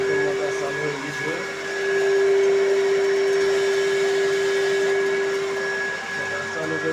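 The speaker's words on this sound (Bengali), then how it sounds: "মোটর চালু হয়ে গেছে" A running electric water pump motor gives off a steady, loud whine and hum with a constant tonal drone, continuous for several seconds, with no speech over it.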